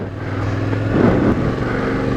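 A 2020 Yamaha Ténéré 700 adventure bike pulls steadily from low revs off-road, its engine a loud, continuous drone that swells briefly midway.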